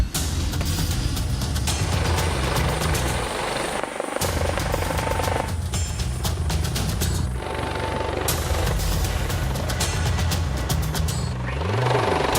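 Air ambulance helicopter Helimed 58 in flight on a 40-minute emergency run, its rotor and turbine producing a loud, steady, dense roar that stays constant throughout with no speech.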